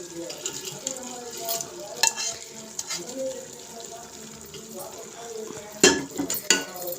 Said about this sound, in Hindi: अब मैं इसमें जो मैंने करेले फ्राई करके रखे हुए थे अब वो डालते हैं।